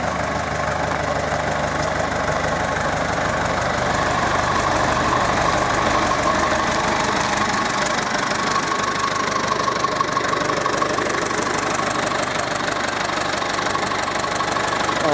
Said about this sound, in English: Tractor will do it now.